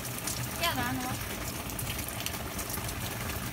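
Rain falling steadily outdoors, a continuous broadband hiss and patter of drops, with a voice murmuring briefly underneath near the start.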